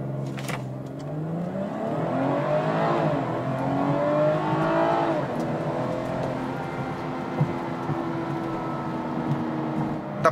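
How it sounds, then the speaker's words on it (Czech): A 2019 BMW 440i Cabrio's six-cylinder engine pulls hard from 0 to 100 km/h, its close, steady drone climbing in pitch and dropping back at each firm gearshift. "A zrychlení z 0 na 100 ještě jednou."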